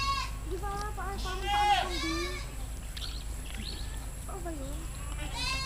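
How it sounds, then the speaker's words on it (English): Many goats bleat in a crowded farm enclosure, a mix of overlapping near and farther calls with a steady background hum, and people talk over the herd. "Holy crap, there's a lot of goats."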